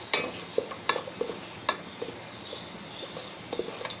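Masala spices fry in a pan for chicken biryani, with a spatula scraping and stirring in quick irregular strokes over a faint, steady sizzle.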